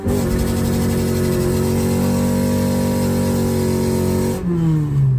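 K24-engined car launching hard on a track at night, its engine revving loud with pitch climbing steadily through the rev range, then a brief dip and a fresh rise as it shifts gear.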